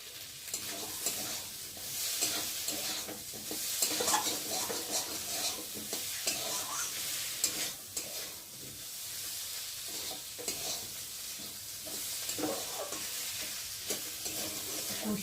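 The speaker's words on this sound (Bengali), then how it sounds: "ভালো করে কষিয়ে নেব যাতে মশলার কাঁচা গন্ধটা চলে যায়।" Spices for a banana flower curry are stirred and fried in a pan, giving a steady sizzle with repeated scraping strokes of the spoon throughout, close by and with nobody talking.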